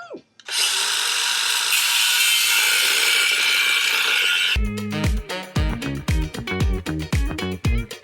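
A power tool cuts into a metal part while a mower and Ford Expedition are being fixed, starting as a loud continuous high whine for several seconds, then breaking into rapid, choppy, grinding bursts.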